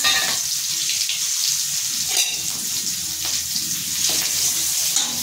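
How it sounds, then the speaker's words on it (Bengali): Asafoetida, a little turmeric and chopped green chilli dropped into hot oil: a loud, steady, close frying hiss that holds throughout, with a few faint knocks beneath it. "তেল গরম হয়ে গেছে। আমি দিয়ে দিচ্ছি হিং, সামান্য একটু হলুদ দিচ্ছি, দিয়ে দিচ্ছি লঙ্কা, কুচনো লঙ্কা"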